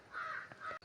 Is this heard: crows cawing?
yes